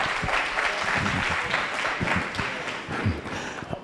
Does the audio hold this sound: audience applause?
yes